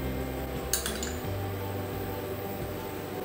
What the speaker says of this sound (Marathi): मी शिगडी चालू केलेली आहे आणि आता एक पॅन ठेवला